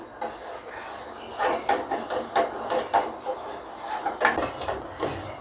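Metal spoon scraping set milk cream from the sides of a pan of simmering milk being cooked down into rabri, a run of repeated rasping strokes at close range with no talking.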